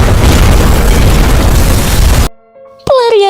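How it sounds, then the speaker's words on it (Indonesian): A film explosion rips through a Thai gangster's mansion, a loud sustained boom and roar that cuts off abruptly, then a brief silence before a tonal sound. "Tiru menjebak mereka semua dalam ledakan yang telah ia rancang di rumah mewah milik pentolan gangster Thailand, Cheng."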